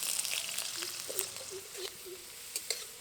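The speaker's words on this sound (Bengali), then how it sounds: "আলুগুলো প্রথমে ভেজে নেব।" Potatoes fry in oil for a plantain-stem curry, making a steady, soft sizzle with light crackles and pops, fairly quiet and with no voices.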